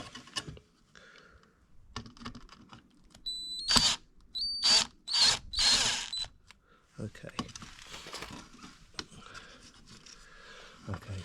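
Power driver backing a T10 Torx screw out of a door mirror casing on a 2013 Audi S4 B8.5, heard as four close, loud, short whirring bursts in the middle, with quiet handling clicks and brief talk before and after.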